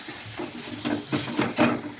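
Ground spices and turmeric stirred in hot oil in a pan, a soft sizzle under a few quick scraping stirs, close and fairly quiet over about two seconds.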